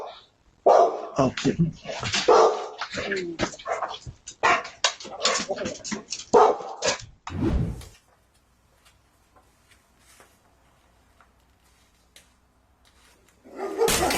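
A guard dog barks loudly and repeatedly in rapid, close bursts mixed with whimpers while a person shouts over it, followed by near silence and then more barking at the end.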